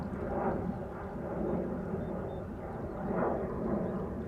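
An Aer Lingus Airbus A320 arrives at Amsterdam Schiphol, its distant jet roar a faint, steady rumble that swells and fades slightly.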